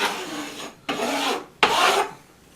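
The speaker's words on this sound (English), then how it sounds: "running your paddle over and making it stick" A wax-coated drywall paddle is scraped over tape laid across a crack in a wall, giving three drawn-out rasping rubs separated by short pauses, close and moderately quiet with no voices.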